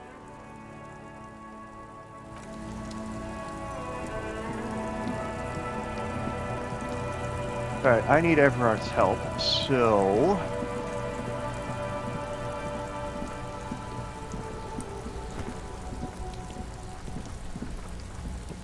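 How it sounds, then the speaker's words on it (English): Steady rain pours down in a dark street scene of the video game Disco Elysium, a constant hiss beneath layered ambient music, while someone briefly talks over it. "This rain will not let up anytime soon."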